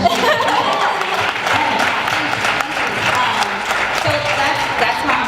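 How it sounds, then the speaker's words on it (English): Audience applause at a community conversation about suicide, loud sustained clapping from a crowd with a few cheers and chuckles woven through for over five seconds. "So still we can clap."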